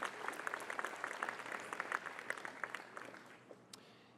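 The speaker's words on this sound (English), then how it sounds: "Let's give Gavin another round of applause" Applause from an audience at a university ribbon-cutting ceremony, many hands clapping in a steady, slightly distant wash that gradually dwindles over a few seconds, with a single sharp knock near the close.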